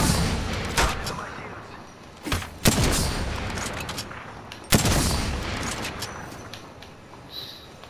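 Gunfire in Apex Legends: a steady wash of shots with several sharp louder blasts standing out, loud and close, while a player talks underneath.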